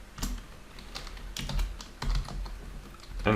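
HTML code is typed on a computer keyboard in irregular bursts of crisp, close key clicks, with no voices.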